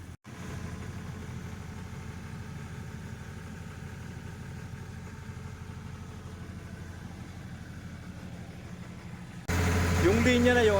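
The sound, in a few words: generator engine running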